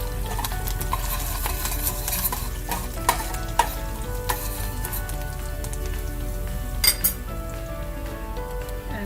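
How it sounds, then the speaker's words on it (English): Curry leaves and baby okra sizzling in hot oil with a steady loud crackle, broken by scattered clinks and scrapes of a utensil against the pan. "I'm going to add all of the curry leaves in there."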